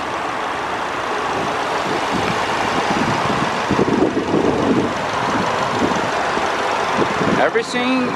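The engine of a 2011 Subaru Outback Limited with 45,000 miles idles in a steady, low, quiet hum, heard close with the hood open while a person talks over it.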